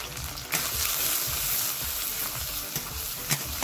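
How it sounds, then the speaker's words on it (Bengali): Cumin, chopped onion and green chili sizzle in hot oil, a dense, even crackling fry heard up close, with a couple of brief louder spatters and no voices. "জিরে তেলে দিয়ে দিব।"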